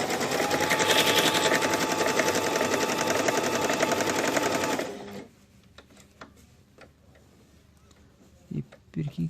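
A Singer S1000EX sewing machine stitches with a loud, rapid, steady mechanical whirr for about five seconds, then stops, leaving near silence with a few faint clicks and thumps.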